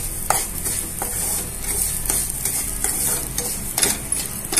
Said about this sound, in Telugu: ఇందులో వేయించుకోవాలి, దోరగా వేయించుకోవాలి.